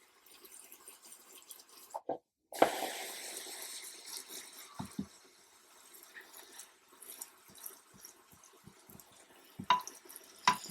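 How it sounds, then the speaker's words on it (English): Water is poured to soak plants in an insect enclosure, splashing and trickling with drips and small knocks, close by, the flow starting abruptly after a brief clunk and continuing unevenly. "We'll soak our plants in, give them a really, really good water."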